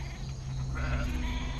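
Sheep bleating at night, a few nasal calls rising over a steady low hum and background noise.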